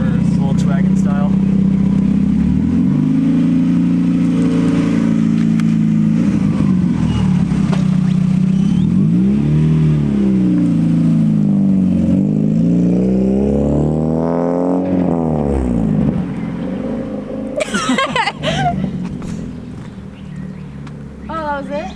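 An NA Mazda Miata with a custom exhaust revs and accelerates through several gears, its loud, close engine note rising and dropping in repeated sweeps, with voices over it.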